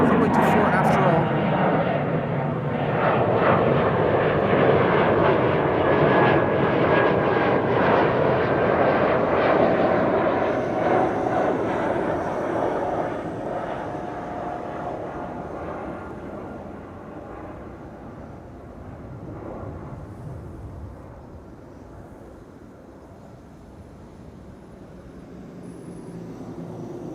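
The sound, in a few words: Embraer E2 jet taking off from runway 24 at Schiphol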